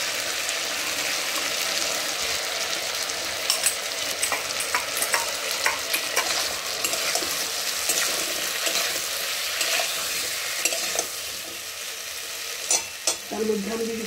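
Ground spice paste with turmeric and Kashmiri chili powder frying in hot oil, a steady bright sizzle with scattered stirring scrapes near the end.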